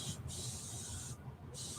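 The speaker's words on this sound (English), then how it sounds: "I'm just going to lay it over here on a towel, and I'm just going to spray it down" Quick bursts of spray from a bottle mist a reusable chalk paste stencil laid on a towel, three soft hissing pulses close by, separated by short gaps.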